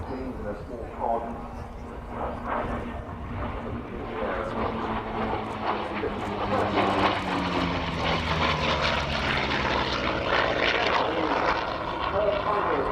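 A B-25 Mitchell bomber fitted with a weather radar pod under one wing flies at the Royal International Air Tattoo, its piston engines and propellers droning steadily and growing slightly louder, under a commentator's voice.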